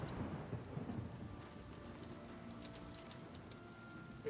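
Steady rainfall in a Skyrim game setting, a dense hiss of drops with a low rumbling thunder roll early on, fairly quiet and continuous, heard alone with no voices.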